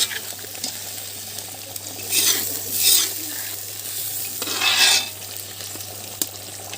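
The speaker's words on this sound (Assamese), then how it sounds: "এতিয়া পানী দিছোঁ আমি আৰু আমি এতিয়াও গৰম পানীয়ে ব্যৱহাৰ কৰিছোঁ" Meat cooking in a pan as hot water is poured in: two loud hissing sizzle bursts rise and fade over soft stirring scrapes, above a steady low hum.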